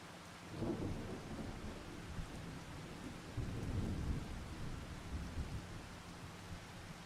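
Steady rain hisses in a Farming Simulator 25 thunderstorm set in Montana, with low rumbling thunder swelling near the start and again midway, continuous and moderately loud with no voices.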